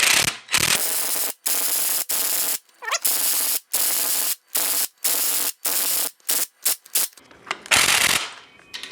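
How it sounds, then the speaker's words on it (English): A pneumatic impact wrench tightens a fitting on a remote oil filter setup for a Cummins 4BT diesel in a 1968 Ford Bronco, heard as loud rapid hammering bursts broken by many short pauses, close up and alone. "I guess it's time to use the impact."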